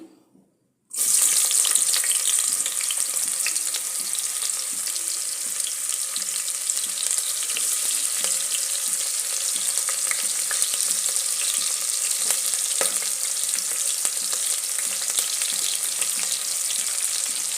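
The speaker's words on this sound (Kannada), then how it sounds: "ಈಗ ನಾನು ಇದಕ್ಕೆ ಈರುಳ್ಳಿ ಹಾಕ್ತೀನಿ" Chopped onions hit hot oil in a pan while cooking sambar, starting a loud, steady crackling sizzle that runs without a break, with no voices.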